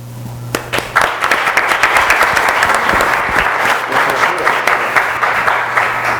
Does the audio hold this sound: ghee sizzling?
no